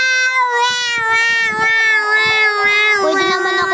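A cat meows in a long, drawn-out, whiny call that bends in pitch and carries on for several seconds, loud and close, with no other sound competing.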